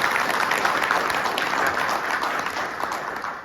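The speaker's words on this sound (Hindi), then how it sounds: "उस देश के लिए एक बार तालियां हो जाए" Applause from an audience at a financial planning training session, a dense continuous patter of many hands clapping steadily for the whole stretch and fading slightly toward the end, with no voices over it.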